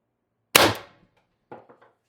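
An Umarex TR50 CO2 air rifle fires a 12.7mm steel ball bearing with a single sharp, loud crack, followed about a second later by a few faint, scattered clicks and taps.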